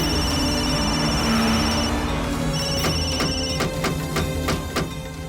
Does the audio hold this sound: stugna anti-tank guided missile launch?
no